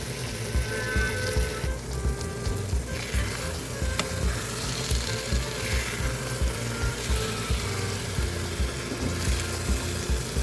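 An egg cracked into a pan with fenugreek leaves sizzles steadily on very low heat, a continuous close crackling hiss with small pops throughout and no talking.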